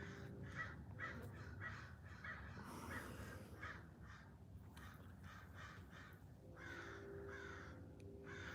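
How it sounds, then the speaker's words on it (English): Several crows caw repeatedly outdoors, a run of harsh calls in uneven bursts at moderate distance over steady background noise, with no talk. "Crows are good. They're out here eating bugs and doing what they do"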